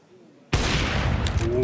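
A gunshot in the Counter-Strike video game, during a Major tournament match: one sharp, loud report breaking out of near silence, followed by a brief rattling tail and a faint whine.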